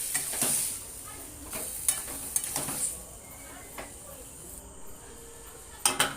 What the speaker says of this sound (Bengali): এবার ভালো করে নাড়াচাড়া দিয়ে চাপা দিয়ে দেবো